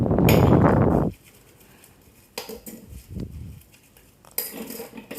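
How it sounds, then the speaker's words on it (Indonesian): Dishes, spoons, glasses and forks clatter and clink as they are washed by hand, with a burst of running water and scattered bursts of metal and glass knocking close by. "Mencuci piring, mencuci sendok, gelas, garpu, dan lain-lain."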